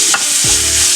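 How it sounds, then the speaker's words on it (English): Freshly crushed ginger garlic paste with a pinch of asafoetida frying in hot oil, a steady close sizzle with a brief scrape of stirring near the start. "Saute it in oil till the rawness of the ginger garlic is gone"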